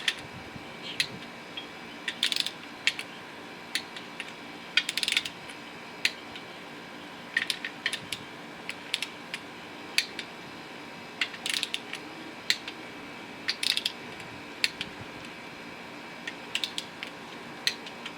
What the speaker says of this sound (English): A lot of bolts to torque.